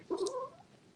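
A cat indoors lets out a single short, close meow that rises and then trails off quietly.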